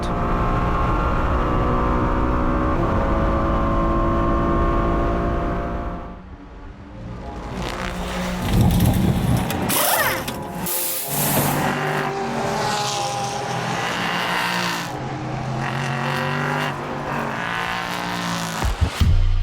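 Michelin Le Mans Cup race car lapping the Mugello circuit in 2024, a loud continuous engine roar that drops briefly, then returns with rising and falling revs, gear changes and possible tyre noise, sustained throughout without commentary.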